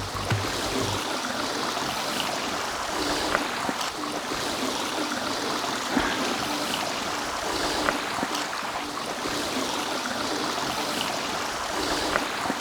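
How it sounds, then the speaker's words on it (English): Steady rushing and trickling of a stream in Cilfrew, Wales, a continuous broadband wash of water that holds even throughout, with no voices. "I can hear some water running in the distance"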